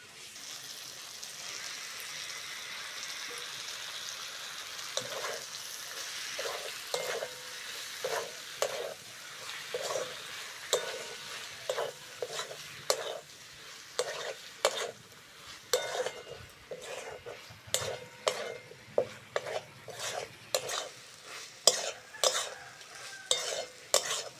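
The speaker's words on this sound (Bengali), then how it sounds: "আলুর সঙ্গে মশলাগুলো ভালো করে কষে নিয়েছি। এবার কাঁচা চিংড়িটা দিয়ে দেবো।" Raw prawns cooking in a pan with potatoes and spices, a quiet background sizzle broken by frequent rhythmic scrapes and clinks of a spoon stirring against the pan, growing busier and louder as it goes on.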